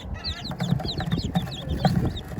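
Chicks and chickens cluck and cheep close by, with bright chirps stacked over low, soft clucks in a steady, busy run of calls.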